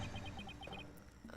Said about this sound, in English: Bird noises!